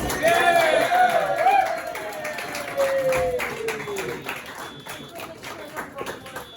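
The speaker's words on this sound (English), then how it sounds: "So can you stamp your feet, clap your hands, and please welcome to the stage our next act, Edith!" Audience at a stand-up comedy night clapping and stamping to welcome the next comedian, a fairly loud burst of applause with taps under a shouting host voice, gradually thinning out toward the end.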